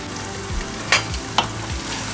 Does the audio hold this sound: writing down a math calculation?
no